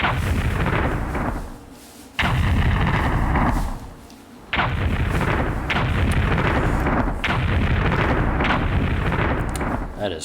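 In Blood Omen: Legacy of Kain, a spiked mace attack makes heavy, booming crashes that repeat in bursts over a loud, continuous rumble, with short pauses between volleys.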